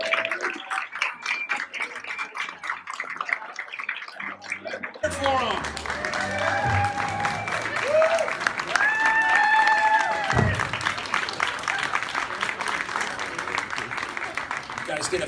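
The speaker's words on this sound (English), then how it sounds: "Round of applause." Crowd at a comic convention costume contest clapping and cheering, a rippling mass of applause that swells after a few seconds, with voices and a few whoops mixed in throughout.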